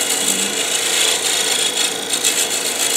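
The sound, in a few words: skew chisel scraping wood on a lathe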